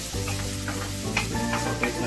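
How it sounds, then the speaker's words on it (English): Onions sizzle and crackle steadily in a hot pan on high flame, with a few sharp pops and the scrape of stirring, close and continuous. "The onion has been frying for about 2 minutes on high flame"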